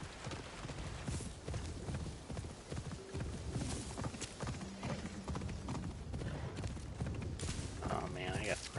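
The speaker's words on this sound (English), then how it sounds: "Galloping the horse." A horse gallops in Assassin's Creed Shadows, with rapid clip-clop hoofbeats running steadily under game sounds and someone talking.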